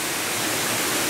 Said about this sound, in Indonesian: semuanya dikelilingi oleh air terjun. Ini terus ya, ngalir nih ke bawah